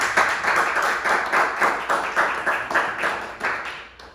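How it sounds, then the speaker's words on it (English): A church congregation at a Pentecostal Anabaptist service in Miami claps in a steady rhythmic beat, roughly two claps per second, fairly close and loud, ending abruptly. "A round of applause for Jesus."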